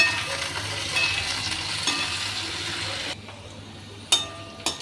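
Onions for Bhojpuri-style chana ghugni fry in a pan, sizzling steadily while being stirred and scraped, then the sizzle drops away and a few sharp spatula knocks ring out near the end.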